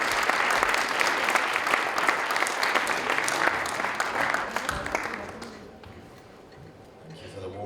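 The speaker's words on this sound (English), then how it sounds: "please give a warm welcome and a round of applause to Dr. Gavin Wood" Audience applause welcoming Dr. Gavin Wood, co-founder of Ethereum, onstage at a DigiTec tech conference fireside chat in Armenia: dense, steady clapping from a large crowd that thins and fades over the last couple of seconds.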